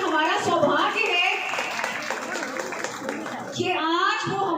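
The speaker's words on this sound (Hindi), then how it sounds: "तालियां बजा दी।" Audience clapping at a public event honoring a gold-medal-winning athlete, a dense burst of applause under a speaker's voice, with talk continuing over it.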